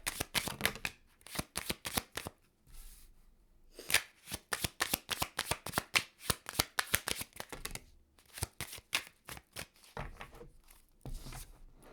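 Tarot cards being shuffled close up, repeated quick riffling bursts of flapping card edges with short pauses between rounds.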